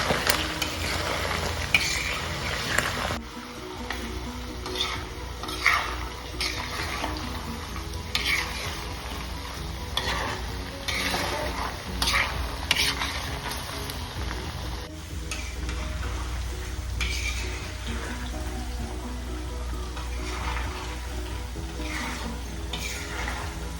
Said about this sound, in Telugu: రెడ్డిష్కి వచ్చే వరకు వేపుకుందాం బాగా.